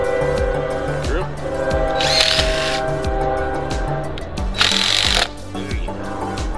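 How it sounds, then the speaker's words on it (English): A power drill drives screws into wood in a garden, with two short bursts of loud whirring separated by quieter pauses, while people talk nearby. "Drill."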